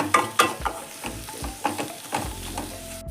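Pallipalayam mutton varuval is sautéed with roasting masala in a pan: rhythmic scrapes and knocks of a spatula stirring over a soft sizzle, close and moderately loud, with no talking.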